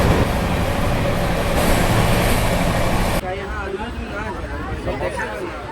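The Kolkata–Darbhanga Maithili Express runs around a curve, giving a continuous loud rolling rumble with rattling wheels, and a voice talks over it.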